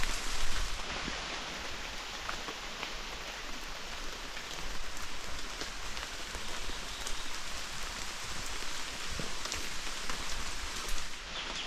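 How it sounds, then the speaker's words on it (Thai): Steady rain falls and patters on a surface, a dense continuous hiss with occasional sharper drops, no voices. "ฝนตก"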